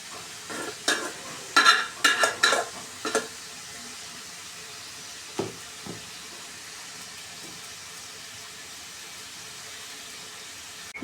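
Lotir (taro stolon) and shrimp curry is stirred in a pan, with a cluster of scraping, sizzling strokes over the first few seconds, then two softer scrapes before the pan settles to a quiet simmer.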